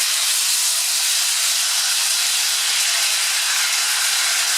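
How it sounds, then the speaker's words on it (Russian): Meat fries in hot oil with a dense, loud, unbroken sizzling hiss that holds steady throughout, close and alone with no voices. "обжаривать мясо."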